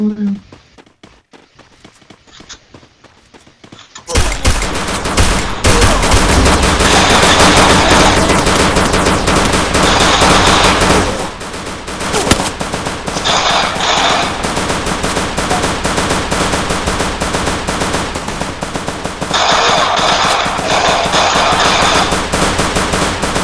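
Gunfire in the mobile battle-royale game Free Fire, loud sustained automatic bursts that start after a quieter opening and run almost without pause, with a short lull midway and voices talking over it.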